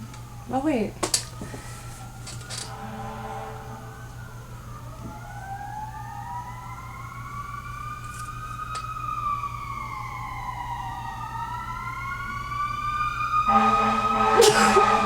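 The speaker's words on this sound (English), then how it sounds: "You can hear the sirens" Wailing emergency vehicle sirens outside rise and fall steadily for several seconds, sounding some distance away, with faint background noise and a few brief clatters at the start and end.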